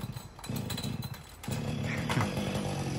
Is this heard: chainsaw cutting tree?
yes